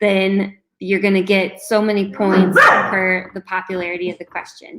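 Excited pet dogs bark in the background of a home during a family trivia game, their barks mostly buried beneath continuous close talking.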